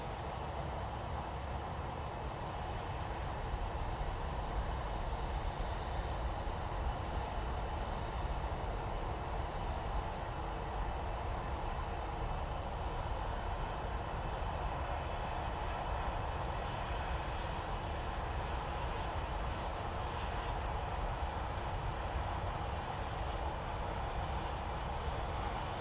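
An airliner comes in to land at Manchester Airport with flaps extended, a faint, distant, continuous rumble of engine and airflow that holds steady for the whole stretch.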